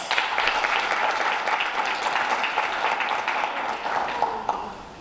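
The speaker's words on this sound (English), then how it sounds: "can we give him a round of applause?" A crowd at a youth conference claps loudly and steadily for a few seconds, and the clapping slowly fades near the end.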